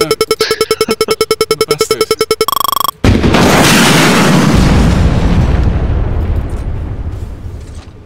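A rocket blast in Arma 3 Wasteland on Chernarus: rapid mechanical rattling and a brief tone give way to a loud, close boom that rumbles and decays over several seconds.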